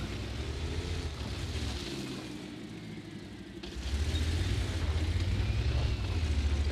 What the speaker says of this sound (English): There goes the turbine.